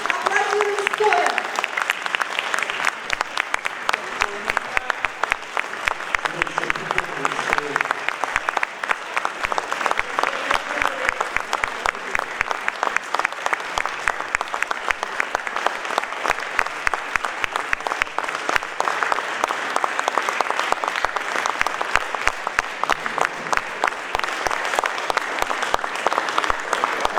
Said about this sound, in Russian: Аплодируем стоя.